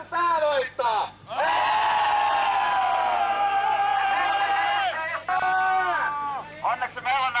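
A crowd at a Finnish rally show shouts and whoops together in a loud, sustained roar lasting several seconds, with shorter bursts of yelling before and after.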